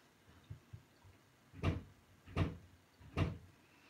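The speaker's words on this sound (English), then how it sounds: "Oh, someone at the door." Three solid knocks or thuds at a house door come at steady intervals, preceded by a couple of faint lighter taps, fairly quiet in an indoor room with no talking.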